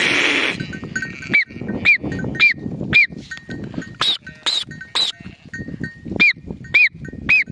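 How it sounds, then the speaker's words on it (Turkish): A flock of sheep comes home, with repeated close bleats and jingling bells over a busy shuffle of hooves. "Bizim koyunlar eve geldiler"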